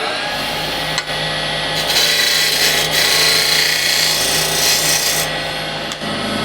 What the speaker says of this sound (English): Again, spindle gouge. Just slowly.